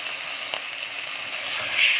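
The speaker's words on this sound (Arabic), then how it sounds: "ونقلب لحد ما اللحمه تنزل ميتها خالص وتغير لونها" Meat sizzling in butter in a pan with black pepper and ground and whole cardamom: a steady, close, bright frying hiss with a faint bump partway through.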